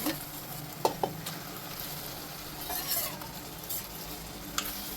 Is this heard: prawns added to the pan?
yes